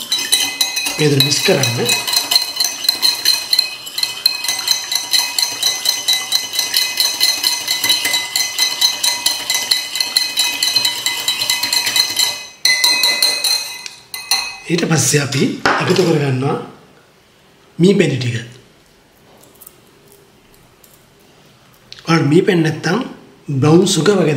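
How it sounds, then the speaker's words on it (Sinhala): Black cowpea and avocado salad is tossed with olive oil in a bowl, with rapid, dense clinking and scraping for about twelve seconds. Then a voice talks, broken by short bursts of stirring. "දැන් පොඩ්ඩක් මේක මික්ස් කරන ගමන්"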